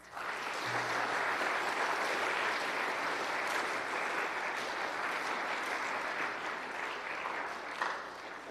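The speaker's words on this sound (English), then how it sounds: "Please give them a round of applause" Audience at a 2022 school awards ceremony gives a long, even round of applause, steady clapping from a crowd filling a hall that tapers slightly near the end.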